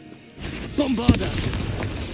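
A Bombarda blasting spell detonating in Hogwarts Legacy, a sudden booming burst near the middle with a sharp crack, mixed with game voice sounds and spell effects in the background.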